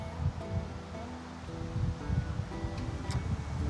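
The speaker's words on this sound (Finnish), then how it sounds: "Aika kova tuuli" Strong wind gusts through a forest, producing a continuous rushing, rustling noise that swells and eases, fairly faint and with no voices.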